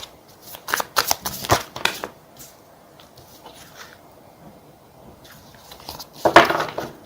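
Tarot cards shuffled and handled during a reading, with brisk papery riffles in several quick bursts, a quiet pause, then another loud burst near the end.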